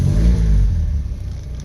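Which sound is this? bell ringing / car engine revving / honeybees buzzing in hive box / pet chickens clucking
car engine revving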